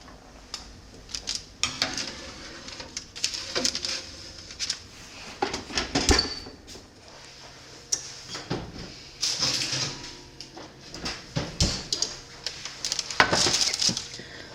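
A baking tray of sourdough hamburger buns slides into a home oven with metallic clatters, knocks and a door thump, scattered irregular handling noises at moderate distance.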